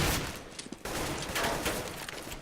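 An AK rifle fires in a Counter-Strike match, with loud, rapid fusillades of gunshots in near-continuous bursts and one short gap partway through.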